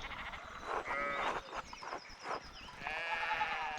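Sheep bleat in the medieval-set video game Pentiment, with several wavering calls spread across the clip, loud and close, overlapping with other rough animal-like cries and no talk.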